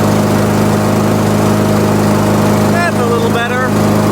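A Honda engine on an MTD lawn mower runs steadily at an adjusted speed around 3,000 RPM, a loud close continuous drone with a brief voice-like chirp late in the clip.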